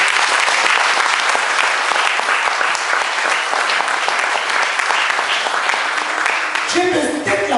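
A church congregation applauds loudly and continuously, a thick, even roar of many hands that holds steady throughout before thinning near the end as a voice begins over it.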